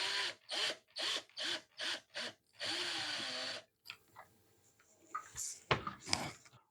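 A power drill bores through the plastic of a flashlight in six short bursts and one longer whir, then quiet clicks and handling noises follow.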